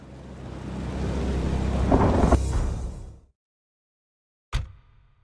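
Rain and thunder in a video game battle with infantry: a heavy rumbling roll of thunder over steady rain for about three seconds, then silence, then a single sharp crack that fades quickly.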